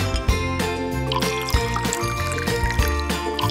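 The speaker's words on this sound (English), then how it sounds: "Pour some milk into the bowl." Liquid pouring in a kids' ice cream making game, a bright trickling splash layered over cheerful background music, moderately loud.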